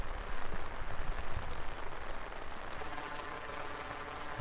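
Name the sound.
rain falling on street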